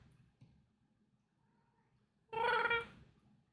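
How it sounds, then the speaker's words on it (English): A pet cat gives a single loud, drawn-out meow after a quiet stretch with only faint low rumbling, the cry sharp and close and lasting about half a second. "Are cat noises being picked up?"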